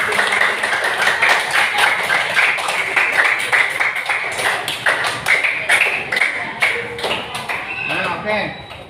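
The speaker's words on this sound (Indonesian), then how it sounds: "Kita kasih tepuk tangan dulu untuk dua kelompok ya." Classroom of primary school pupils clapping for two debate groups, a dense patter of many small hands filling the room, with chatter and voices mixed in throughout before the clapping thins out near the end.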